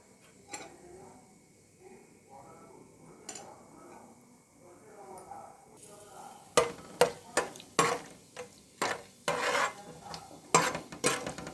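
Whole spices such as bay leaf, cinnamon, cloves, shahjeera and cardamom fry in hot oil in a pot for a mutton gravy curry. Soft sizzling under talk gives way to loud, repeated scraping of a utensil stirring against the pot.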